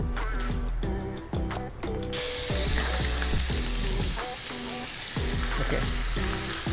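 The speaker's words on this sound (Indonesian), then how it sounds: "Panggang dulu bagian lemaknya di sirloinnya." The fat side of a sirloin steak searing in a Visensa frying pan, with a loud, dense sizzle running throughout and repeated clacks and scrapes from handling and stirring in the pan.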